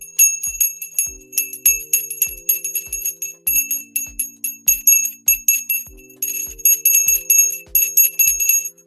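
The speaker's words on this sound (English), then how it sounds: "I feel like that bell doesn't ring the same anymore" A market opening bell chimes on a live crypto price stream, ringing in a rapid, rhythmic run of bright, loud strikes with ringing overtones, alone and close.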